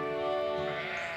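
A single sheep bleats once, close and clear, with nothing else heard.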